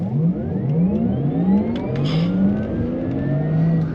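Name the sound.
Porsche Taycan 4S electric car accelerating at full throttle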